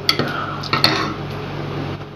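Spoon stirring fried tempering into Rayalaseema-style menti pappu (fenugreek dal) in a pot, a few soft scraping clinks near the start followed by quieter mixing sounds, close up with no talking.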